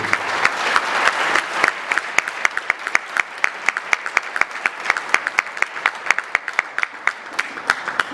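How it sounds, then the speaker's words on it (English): Audience at a 2019 Imo State governorship debate applauds the candidates, starting as a dense burst of clapping that thins after a couple of seconds into scattered, sharp individual claps continuing steadily. "Ladies and gentlemen, can we clap for the Excellencies, please?"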